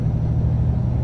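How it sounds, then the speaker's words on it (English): A Cat V12 engine in a W900 truck in American Truck Simulator drones at high revs, a loud steady low rumble with a sustained harmonic tone and no voices. "Redline that engine a bit."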